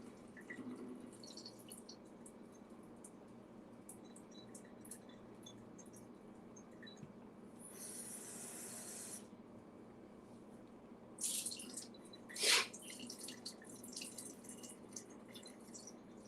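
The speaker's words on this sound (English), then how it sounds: "So I'm basically just trying to drain the excess water out." Excess water draining out of a warped can, a quiet steady trickle and drip with a couple of brief louder splashes near the end, heard close and alone.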